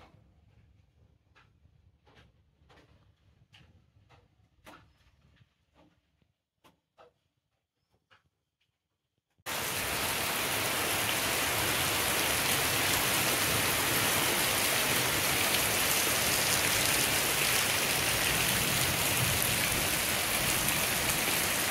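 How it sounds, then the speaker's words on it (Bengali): Sudden heavy rain at ten in the morning after a sunny start. A few faint clicks and taps come first, then a loud, dense, steady downpour bursts in midway and continues without a break. "দেখো হঠাৎ করে বৃষ্টি নেমে গেল"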